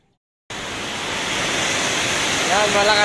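After a moment of silence, heavy rain suddenly roars in as a dense, steady wash of noise that grows slightly louder.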